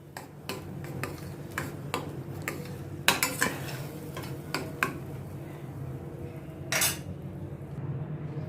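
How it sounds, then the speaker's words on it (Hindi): Spices are stirred and sautéed with tomato and onion in a pan, sharp spoon scrapes and clinks on metal coming in an uneven rhythm over a low, soft sizzle, close and fairly quiet, with no talking. "इन सभी को अभी मैं टमाटर और प्याज के साथ अच्छी तरह से ये मिक्स करती हूँ और थोड़ा भूनती हूँ"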